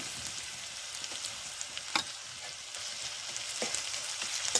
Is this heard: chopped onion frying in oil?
yes